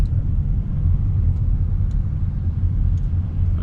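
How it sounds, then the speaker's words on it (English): A car crawls slowly toward a red light in sport mode under regenerative braking, giving a steady low rumble of road and drivetrain noise, close and continuous, with no voices. "I'm going to regen with the sport mode and crawl towards the"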